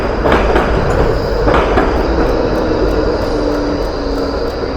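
A loud, steady rumble of a tram rolling past nearby, with broadband rushing noise and faint high rhythmic clicks throughout.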